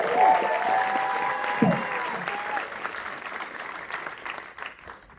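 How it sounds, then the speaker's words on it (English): Audience applause for the filmmakers at a movie talk event, a steady round of clapping with some cheering voices early on, gradually thinning out and fading. "Another round of applause for the filmmakers in the star."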